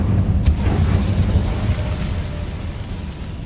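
The Incendio fire spell cast in Hogwarts Legacy bursts out as a rumbling, whooshing blast with a sharp crackle at the start, then a steady low roar that slowly fades over a few seconds, with no talk.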